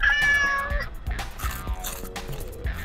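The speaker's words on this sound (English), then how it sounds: "My cat is hungry." A hungry cat meows close to the microphone, with a drawn-out, tonal call at the start followed by softer, shorter mews and light clatter.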